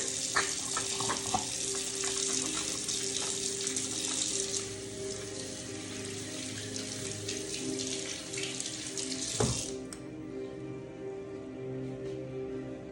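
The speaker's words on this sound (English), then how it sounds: "let me wash my hands real quick" Hands are washed under a kitchen tap: steady, close running water splashes in a sink for about ten seconds, then the flow is shut off and stops.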